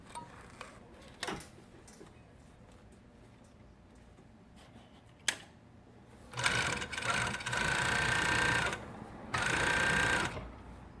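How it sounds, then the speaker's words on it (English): A Juki MF-7523 coverstitch machine runs in two steady, close bursts of rapid mechanical stitching, after a quiet stretch broken by a couple of sharp clicks. "you could just start sewing."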